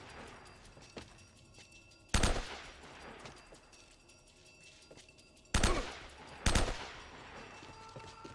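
Gunfire from a seven-shot weapon in the video game Uncharted: three sharp, loud shots spaced apart, each with a ringing tail, over a quieter game background.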